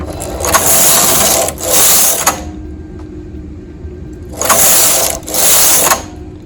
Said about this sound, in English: I am going to knit 4 rows.